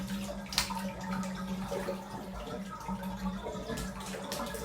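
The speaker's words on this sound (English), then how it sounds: "put fresh hot water mixed" Hot water pouring into a bathtub to refresh cooled bathwater, a steady continuous rush with a low hum and occasional splashy drips, close by with no talking.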